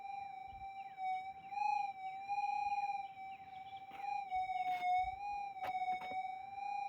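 A Minelab GPZ 8000 gold detector, running the Echosonic Pro setting during a deep gold nugget test, holds a steady electronic threshold tone that wavers and swells faintly in pitch as a target response, with no talking.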